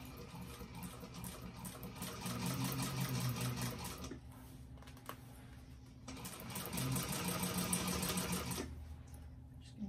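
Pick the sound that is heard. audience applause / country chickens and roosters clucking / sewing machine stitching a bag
sewing machine stitching a bag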